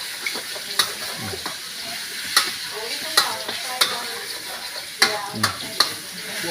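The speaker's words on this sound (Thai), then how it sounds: "ต้องรวนหนังก่อน ให้หอมๆนะครับ โดยใส่กระเทียมแล้วก็ใบมะกรูดนิดนึงนะครับ" Duck skin stir-fried with garlic and kaffir lime leaves in a hot pan, a steady close sizzle broken by repeated sharp scrapes and clanks of the spatula at irregular intervals.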